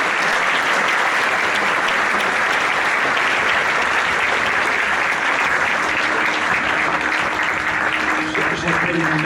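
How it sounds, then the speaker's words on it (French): Sustained, loud audience applause fills an opening ceremony of the 31st FICA film festival, a dense steady wash of clapping from a large crowd that carries on without a break. "Et vous pouvez l'applaudir très très fort"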